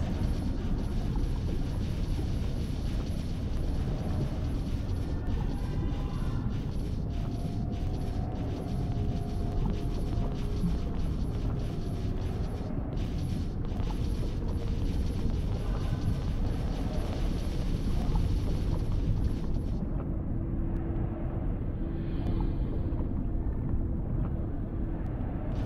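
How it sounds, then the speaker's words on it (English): Helicopter arriving in the video game God Eater Resurrection, a steady loud rotor and engine drone that holds throughout, then thins out near the end. "Objectives complete. Send the chopper."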